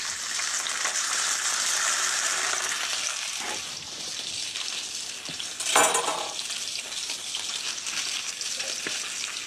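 Salmon sears in a hot sauté pan with a loud, steady oily sizzle and crackle, and a brief sharper burst of spitting partway through.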